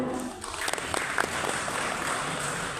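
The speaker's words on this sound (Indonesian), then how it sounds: "Boleh kita berikan tepuk tangan yang meriah." Audience at a government ceremony in Jember applauds in a dense, moderately quiet patter of clapping, with a few brief sharp sounds on top.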